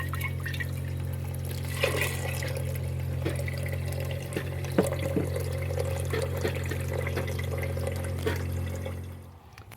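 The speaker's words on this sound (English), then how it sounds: "I'm going to pour the bean water out and then we'll cook them." Soaked bean water being poured out inside an RV, a steady trickling pour over a constant low engine hum, with a few clunks and splashes near the end before it cuts off.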